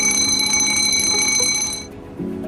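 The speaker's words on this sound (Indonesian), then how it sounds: "Jika tiba-tiba Anda mendengar suara alarm seperti ini" A hospital high care unit fire alarm rings with a steady, loud, high-pitched electronic tone that cuts off abruptly, followed by a lower continuous tone.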